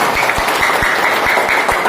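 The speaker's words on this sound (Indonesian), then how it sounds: "tepuk tangan untuk PT BES" A crowd claps continuously, dense and steady applause with sharp individual claps standing out, no talking.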